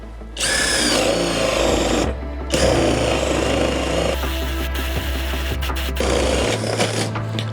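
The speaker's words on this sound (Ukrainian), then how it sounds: "піднімаємо ставки, 40-ве перове сверло, також е, друга швидкість. Погнали." A Kress KUA71 cordless drill bores with a 40 mm spade bit at second speed. Its loud, steady motor whine and cutting roar run close and continuous, with a brief dip near the two-second mark before it resumes.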